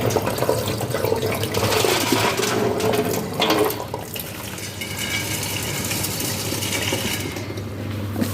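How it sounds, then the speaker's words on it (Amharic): Water runs and splashes steadily as it drains off rice being cooked for a Saudi-style chicken kabsa, a dense continuous pouring rush with no voices. "ከዛ ሩዙን ውሃውን አጠለዋለሁ።"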